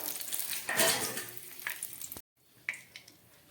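Bay leaves and oil sizzling in a hot pan, a close crackling hiss that swells then cuts off abruptly, followed by quieter sizzling with a couple of light utensil clinks.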